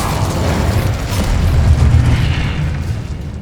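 The Incendio fire spell cast in the video game Hogwarts Legacy bursts into a loud, rumbling whoosh of flame that swells and then fades over a few seconds, close and with no talking over it.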